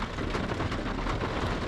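Heavy rain pours steadily on a campsite during a thunderstorm, a dense continuous hiss of drops drumming on surfaces with no talk.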